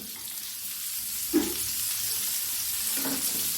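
Elephant yam stir-fry cooking in oil, a soft steady sizzle with two faint spatula strokes against the pan, quiet and close without voices.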